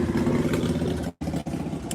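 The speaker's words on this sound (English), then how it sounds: "there's a motorcycle" A motorcycle engine drones at mid distance with a steady, buzzing rumble, dipping abruptly for a moment before carrying on.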